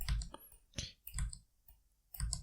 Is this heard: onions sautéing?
no